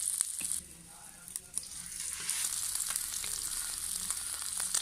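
Shami kebab frying on a tawa griddle over low heat, a continuous bright hiss and crackle of sizzling oil with occasional taps and stirring sounds, close and steady.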